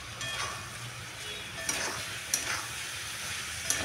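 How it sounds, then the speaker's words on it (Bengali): Ground coriander, cumin and chilli powder frying in a pan on high flame give a steady sizzle, and three light scraping stirs cut through it, close and fairly quiet, with no voices. "একসাথে সব ভালো করে মিশিয়ে নেব, নাড়াচাড়ি দিয়ে।"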